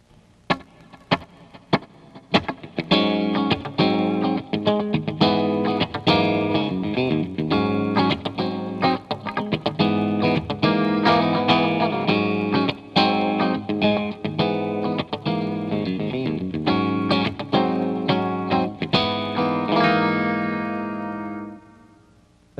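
A clean electric guitar playing funky rhythm with effects: tight, choppy muted strums and chord stabs in a steady syncopated groove, closing on a ringing sustained chord that fades out.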